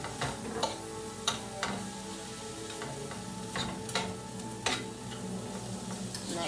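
Salted and peppered casserole ingredients sautéing in a pan, a steady, moderate sizzle broken by several sharp spatula taps and clicks against the pan.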